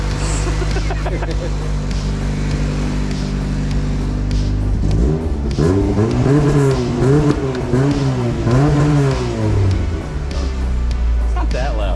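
1989 Honda Civic Si hatchback with a B16A engine idling steadily and then revved several times in quick succession, close and loud, the pitch rising and falling with each blip.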